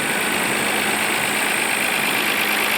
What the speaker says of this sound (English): The engine fired right up.